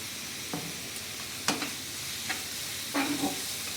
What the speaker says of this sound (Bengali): যতক্ষণ না তেল ছাড়ছে মশলাটাকে আমি একটু কষিয়ে নেব